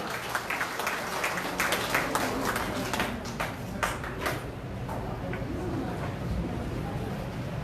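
Applause from a crowd at a Korean party appointment ceremony, quiet and distant, with quick claps for the first few seconds that fade into a low room hum.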